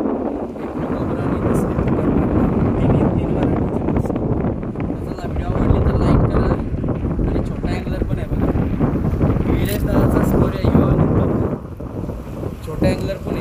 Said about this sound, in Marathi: आता जरा वारा जास्त सुटला आहे